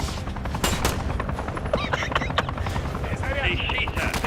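Rapid bursts of automatic gunfire and single shots crackle through a Call of Duty: Modern Warfare 3 firefight, dense and loud with explosive hits, while players talk over the action.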